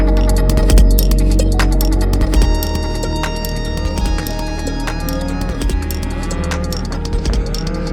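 Cattle low loudly and close by in wide open Arizona country, deep drawn-out moos overlapping one after another over a steady rumble.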